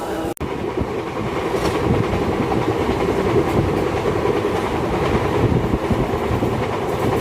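Guwahati–New Bongaigaon passenger special train on Indian Railways' Northeast Frontier line, running at speed with a steady, loud rumble and rhythmic wheel clatter heard from on board, plus a brief sharp knock near the start.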